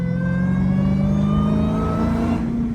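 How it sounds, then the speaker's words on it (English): A Dodge Hellcat's engine revs during a downshift, a loud, close, throaty drone whose pitch climbs steadily over nearly three seconds. "I bust some downshifts"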